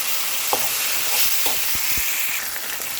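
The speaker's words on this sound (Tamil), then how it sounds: "இப்போ ஓரளவு நல்லா வெங்காயம் பொன்னிறமாக வதங்கிடுச்சு" Onions and tomatoes fry in a pan for a sardine curry, giving a steady broadband sizzle with a few soft stirring clicks and scrapes, close and continuous.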